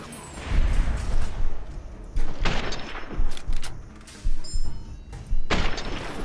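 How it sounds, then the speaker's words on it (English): Loud gunshots and heavy thuds come in repeated bursts during combat in the video game Fallout: New Vegas, with short pauses between volleys and no speech. "What if I shoot you in the head"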